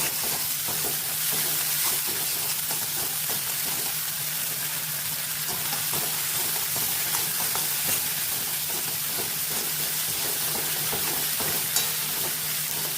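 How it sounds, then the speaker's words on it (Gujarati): Potato curry for bateka bhungla being stirred as it fries in oil on a high flame, a dense, close, continuous sizzle and hiss with soft scraping from the stirring and no voices. "સરખી રીતે આપણે મિક્સ કરીને હલાવી દઈશું"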